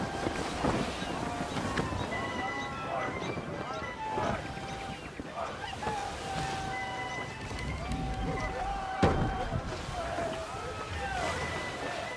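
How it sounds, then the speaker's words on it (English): Strong wind gusts over open sea aboard a sailing ship in Assassin's Creed 3, a steady rushing roar with water wash, under shouted crew talk and game music. "Rogue wind!"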